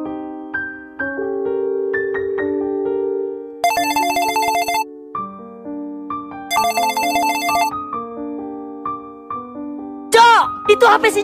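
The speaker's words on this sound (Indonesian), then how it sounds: "Itu HP si Jojo." A mobile phone rings with a bright electronic ringtone melody, loud and close, playing on for several seconds with repeated high chiming bursts.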